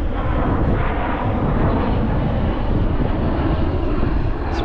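A plane practicing landings roars overhead, a loud, steady engine drone holding throughout without letup, with no voices over it.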